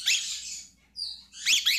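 Red-rumped parrots, small Australian birds slightly smaller than a cockatiel, give short bursts of high chirping and squeaky calls, with a brief pause between two close, moderately loud clusters.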